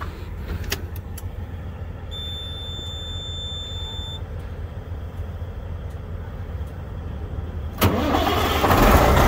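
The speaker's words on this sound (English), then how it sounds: "Now I'm gonna start the truck up." A diesel truck with air in its fuel system, with a freshly replaced fuel filter, cranks and starts close by. A steady churning runs for several seconds before the engine catches and the rumble swells louder.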